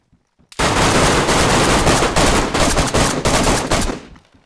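Gunfire in the survival shooter DayZ, a sudden, loud, sustained burst of rapid shots that rattles on for several seconds before cutting off abruptly.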